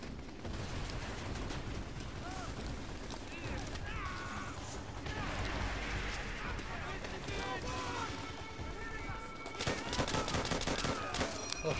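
Chaotic World at War battle on Hard Landing with near-continuous gunfire, bursts of automatic rifle fire and scattered shots over a dense din of distant combat and shouting soldiers, growing heavier toward the end.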